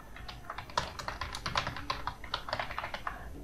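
Fingers tap out a short word on a computer keyboard, a quick run of close, light clicks in bursts with brief pauses, alone and without speech.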